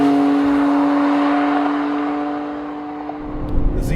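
A 2017 Jaguar F-Pace S crossover engine drones steadily while driving, a loud sustained hum that fades slightly and then swells again near the end.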